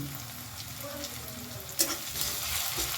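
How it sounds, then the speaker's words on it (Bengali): Onions frying in a pan with a little sugar added, a close, steady sizzle and crackle with light stirring and one brief clink of a spatula partway through. "ভালো করে একটু লাল লাল করে পেঁয়াজটা ভেজে নেব"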